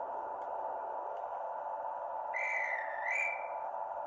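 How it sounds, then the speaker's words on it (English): A dispatch whistle from the KR Models 4DD train simulator sound pack gives a short two-part shrill blast, rising then dipping before a second peak, over a steady low hum of the idling unit. "F10 is dispatch whistle"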